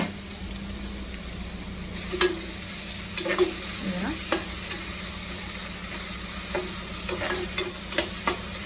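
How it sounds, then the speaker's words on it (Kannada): Two large, finely chopped onions fry for chicken biryani under a low steady sizzle, while a utensil stirs them in repeated scraping strokes and clinks against the pan, close and clear, with no speech. "ಬ್ರೌನ್ ಕಲರ್ ಬರೋ ತನಕ ಚೆನ್ನಾಗಿ ಫ್ರೈ ಮಾಡ್ಕೊಳ್ಳೋಣ."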